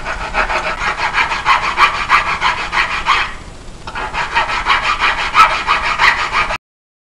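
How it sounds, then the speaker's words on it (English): Hand file rasping on metal at a 1993-1997 Ford Ranger front spindle bearing; loud, close, rhythmic back-and-forth strokes with a brief pause midway, then more strokes before stopping abruptly. "File that down a little more."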